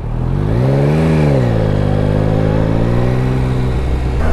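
A Yamaha MT-09 motorcycle revs loud and close while being ridden in first gear, its engine pitch swelling and dipping in a continuous drone with no one talking.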